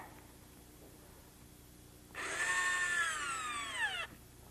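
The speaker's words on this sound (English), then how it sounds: "Then it screws into place on the studs with drywall screws." A power drill drives drywall screws through fire-resistant sheetrock into wall studs, one steady whirring run of about two seconds that winds down as the screw seats, fairly close with no talk.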